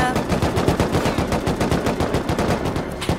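AK rifle gunfire in the game Rust hammers out in a rapid, steady automatic burst of sharp close shots lasting about three seconds, with no talk.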